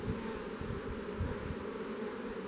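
Honey bees buzz steadily at close range as they crawl over dark comb, a dense continuous drone with no voices.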